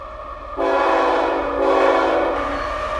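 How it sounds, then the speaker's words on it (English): An eastbound CSX freight train passes nearby with a loud, steady rumble and a sustained horn blast that swells partway through, with no talking. "CSX eastbound train."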